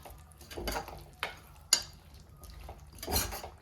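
A spoon stirs chicken curry with added water in a pot, giving a few scraping strokes and sharp metallic clinks against the vessel, with soft bubbling between, close and fairly quiet.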